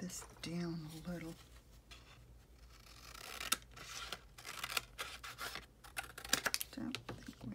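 Scissors cut down craft material for a handmade cascading journal, giving close, irregular snips and scraping rustles, with a short burst of speech near the start.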